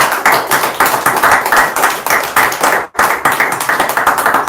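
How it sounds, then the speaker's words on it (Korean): A church congregation claps together during a Liberation Day sermon, a dense, steady burst of many hands that pauses briefly near the end and then resumes. "자, 우리 다 같이 박수 한번 칩시다."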